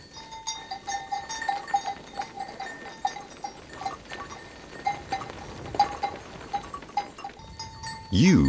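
Grazing ewes on an open plateau of Levezou in southern France, with scattered bleats and the tinkle of bells against quiet outdoor ambience, ending in a brief louder rustle.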